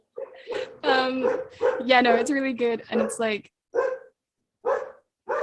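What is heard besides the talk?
dogs barking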